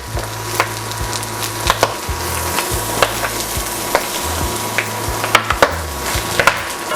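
Garlic and onion fry in a pan with a steady sizzle, while repeated sharp knocks and scrapes from a utensil stirring against the pan break through. A low hum runs underneath.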